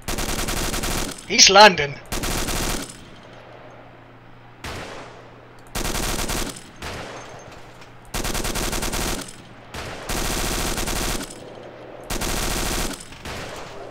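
M249 machine gun fire in ARMA 2, loud sustained bursts of automatic fire repeating in roughly two-second blocks with short pauses, a player's brief voice heard between them.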